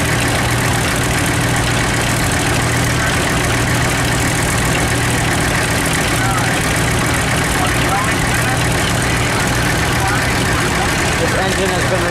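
An old tractor engine idles on gasoline at a steam threshers reunion in Rollag, Minnesota, a loud steady low chugging that runs throughout with crowd noise and talk around it.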